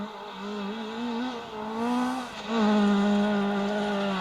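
Rally car on a forest stage, its engine revving and rising in pitch as it sweeps past, loud and near, with gear changes and a surge of throttle.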